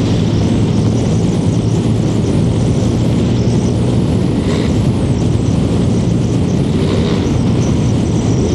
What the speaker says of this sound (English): That is rattling like a bugger.